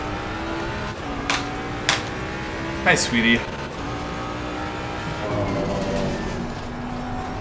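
A GT3 Mustang race car engine in a racing video game hums steadily with rising and falling pitch, punctuated by a few sharp bursts, under a voice talking briefly.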